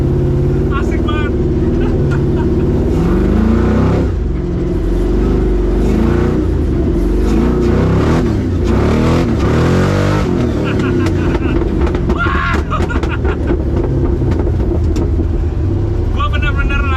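A tubular Ultra4 off-road racing car powered by an LS3 V8 roars loudly and revs continuously up close, with someone talking over the engine.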